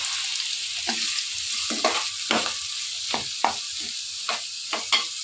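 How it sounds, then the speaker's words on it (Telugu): Chopped onions and green chillies tossed into hot oil for a fish curry crackle in a steady loud sizzle, broken by repeated scraping stirs roughly every half second to second. "కట్ చేసి పక్కన పెట్టుకున్న ఈ ఉల్లిపాయ ముక్కలు, పచ్చిమిరపకాయ ముక్కలన్నీ కూడా అదే ఆయిల్లో వేసుకుని"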